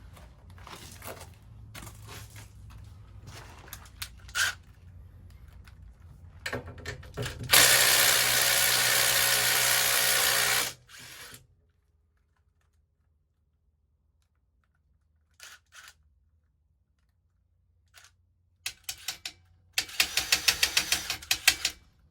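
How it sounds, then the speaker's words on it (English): Impact wrench spinning 9/16 nuts off an electric trailer brake assembly, a loud rattling burst of a few seconds amid clinks and handling noise, then near silence, and another clattering rattle near the end. "I'm just gonna grab 9/16 and bust that out real quick with an impact"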